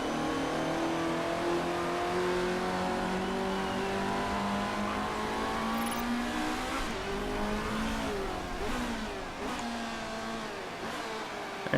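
Race cars in Motorsport Manager hold a steady, droning engine note that rises and falls in pitch as they run around the track, with no talk over it.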